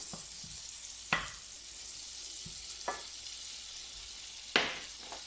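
A spoonful of butter melting in a hot pan on the stove, a soft steady sizzle with a few faint clicks and taps, quiet and without voices.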